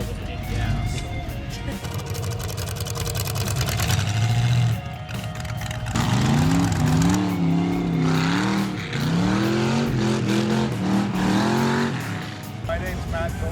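A 1985 Toyota truck fitted with a small-block Chevy engine, its loud, steady engine drone rising and falling in pitch as it drives, with someone talking over it.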